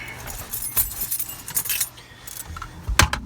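Car keys jangle and clink in several bursts close to the microphone, scraping and rattling in a 2003 Chevy Silverado pickup truck, with a louder final shake near the end.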